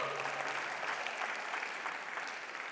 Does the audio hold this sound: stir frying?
no